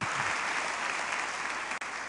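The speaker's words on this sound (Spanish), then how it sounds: "Denle un aplauso al Señor" A church congregation claps during a communion service, producing a loud, uniform wash of applause from many hands that holds steady throughout.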